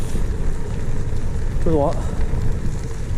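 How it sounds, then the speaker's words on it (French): Wind buffeting a gravel bike rider in the Forêt de Saint-Germain, a steady broadband rush over low rumble, loud and close, with a rider speaking briefly over it. "Un peu de vent quand même, hein."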